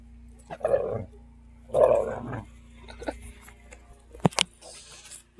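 A dog scuffling, snorting and growling in short bursts, close by, with a sharp knock or thump near the end against a low steady hum.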